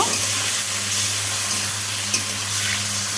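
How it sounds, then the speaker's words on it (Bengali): Fish roe coated in turmeric, chili and a little salt sizzles in hot oil, a loud, steady, close frying hiss with no break. "আমি এগুলো হলুদ এবং মরিচ এবং সামান্য লবণ দিয়ে আমি মেখে নিয়েছি। তারপর আমি এটা উল্টে পাল্টে ভেজে নেব।"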